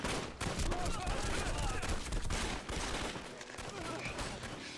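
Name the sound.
gunfire in an action film battle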